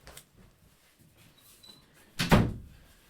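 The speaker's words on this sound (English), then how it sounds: "Let me close this door." After faint background noise, a door closes with a single solid thud near the end.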